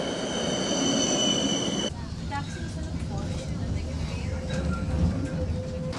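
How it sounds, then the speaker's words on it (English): Rumble and rattle of a city tram riding through Helsinki, with steady low rolling noise, a sharp shift partway through and a thin squealing tone near the end. Faint voices murmur underneath. "We're taking a nice tram for an 18-minute ride"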